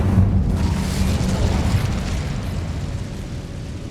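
The Incendio fire spell from Hogwarts Legacy bursts with a deep, loud whoosh and boom, then trails off into a rumbling, crackling roar that slowly settles.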